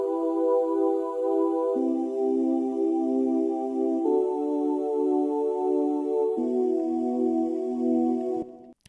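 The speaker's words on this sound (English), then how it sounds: "the Novation plays a sample of a Wavestation preset called Ooze, and that preset is from the WPC12 expansion card" Korg Wavestation preset Ooze from the WPC12 expansion card, played as a sample on a Novation keyboard: a sustained, evolving synth pad with shifting chords changing every couple of seconds, steady and full, alone without talk, cutting off at the end.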